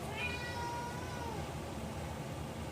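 A single cat meow rises briefly at the start, faint against a steady background rumble and noise.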